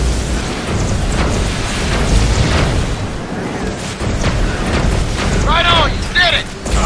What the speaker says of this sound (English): Detecting airburst detonations.